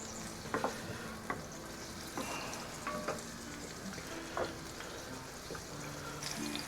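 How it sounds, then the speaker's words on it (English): Quiet, continuous sizzle of aubergine shallow frying in oil, with occasional soft clicks and light stirring sounds, no voices. "So we're just shallow frying the aubergine."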